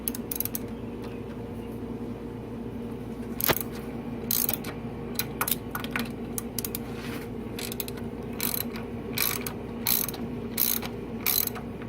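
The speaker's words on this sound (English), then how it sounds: "I'm on the bolts on the left hand side, which I'm going to loosen them up." A ratchet loosens frame bolts on a Walker mower, giving a steady run of clicking and creaking close by with a few sharper metallic knocks.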